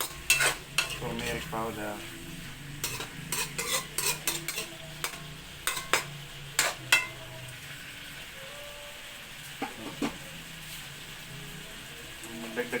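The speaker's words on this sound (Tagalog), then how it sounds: "Halo-haloin natin para hindi dumikit sa loob." A spoon stirs Filipino valenciana rice sizzling in a pan with turmeric powder, a run of scraping, clinking strokes in uneven rhythm over a soft steady fry, close up, with a voice speaking briefly.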